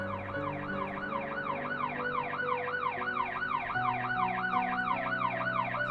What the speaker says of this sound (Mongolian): Өнгөрч яваа цагдаагийн машины дууд